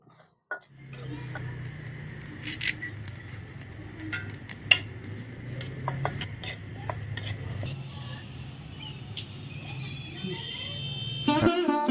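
Cumin seeds and curry leaves dry-roasting in a pan for Giji Bhaji, with a steady low hum, scattered metallic clinks and scrapes of a utensil against the pan, and a brief clatter near the end.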